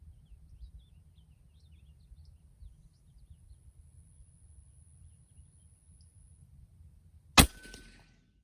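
A powerful brush air gun fires one sharp, loud report at a 60-yard target outdoors, after a long quiet stretch of low wind rumble and faint birdsong, with a short ringing decay.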